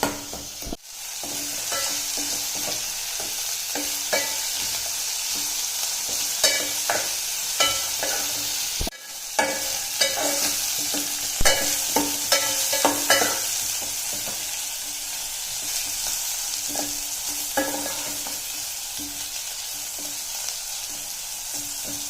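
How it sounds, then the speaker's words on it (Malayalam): Small onions and masala sautéing in a pan for a chickpea curry, a steady close sizzle broken by repeated scraping and clattering strokes of a spoon stirring. "നമുക്കൊന്ന് ശരിക്ക് വഴറ്റിയെടുക്കാം. ഇത് ചെറുതായിട്ടൊരു ഗോൾഡൻ കളർ ആവട്ടെ."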